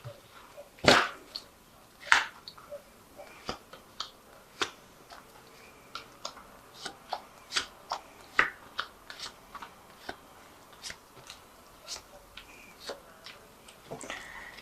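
Vikings Tarot cards being drawn and laid down one after another, soft papery flicks and light taps in an irregular rhythm, close and quiet.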